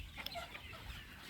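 Laying hens on a poultry farm cluck in a scattered, fairly faint chorus, with brief sharper calls rising over a steady barn hum.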